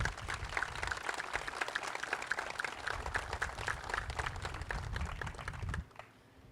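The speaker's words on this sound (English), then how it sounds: "And a round of applause." Audience applause at a naval ROTC commissioning ceremony, steady crowd clapping at moderate distance that continues evenly and then stops abruptly near the end.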